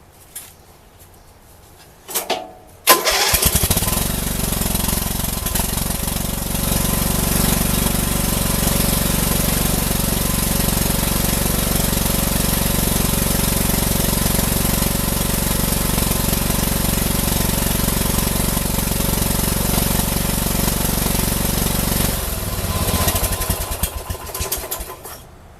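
Small lawn mower engine, just fitted with a repaired carburetor, catches after a couple of pulls and then runs steadily and loudly for about twenty seconds before cutting off, with no talking.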